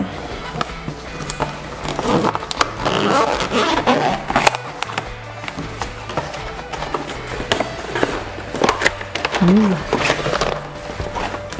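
Packaging being opened on a new Silikomart silicone mold, with steady rustling, crinkling and handling noises close up, a few sharper snaps and tears, and a voice briefly heard toward the end.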